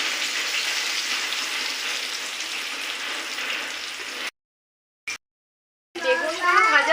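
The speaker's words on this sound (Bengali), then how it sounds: "বেগুনটাকে ঢাকা না দিয়ে ভেজে নেব" Eggplant fries uncovered in hot oil over medium heat, giving a loud, steady sizzling hiss that cuts out briefly before resuming with crackling bubbles.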